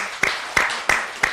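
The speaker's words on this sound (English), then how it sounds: "another round of applause for Wendy, our Emperor Mouse" Applause for cosplayers at a Star Wars cosplay gathering, heard here as four distinct, evenly spaced claps, crisp and fairly close, with a pause between each.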